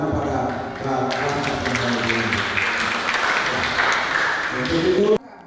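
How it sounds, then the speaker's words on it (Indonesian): Applause from an audience at a scout ceremony at SMK Negeri 2 in Manokwari, West Papua, a steady wash of clapping over tonal background sound that cuts off abruptly near the end. "Mari kita berikan tepuk tangan kepada"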